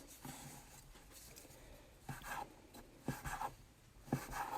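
Knife slicing through rolled, stacked egg noodle dough on a board, with soft scraping strokes in irregular bursts, close up and fairly quiet, with no talk.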